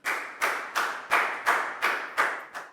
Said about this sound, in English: a big round of applause for Prau